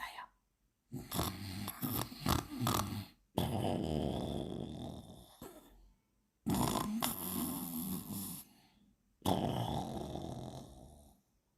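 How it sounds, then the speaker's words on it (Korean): A rich man asleep under a shady tree in a Korean folktale, with loud, close snoring in four long, rasping breaths separated by short silences. "나무 그늘에서 부자가 코를 골며 자고 있었지요"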